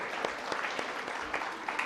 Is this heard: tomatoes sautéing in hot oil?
no